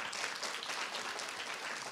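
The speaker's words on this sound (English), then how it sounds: "give a round of applause to our timekeepers first" A short burst of steady applause for timekeepers at a grade 6/7 student presentation event, a moderate, fairly distant wash of clapping from an audience, with no one speaking.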